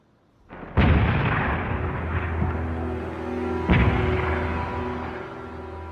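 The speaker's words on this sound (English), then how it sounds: "4 18-pound field guns stationed by the British at Trinity College have begun shelling the city." Artillery from British 18-pound field guns shelling a city in the 1916 Irish Rebellion: two heavy booms, the second about three seconds after the first, each with a long rumbling roll of echo.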